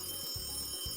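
A telephone rings on a Filipino AM radio show's phone-in prize segment, two short bursts of a steady ringing tone at close range, with no talk in between.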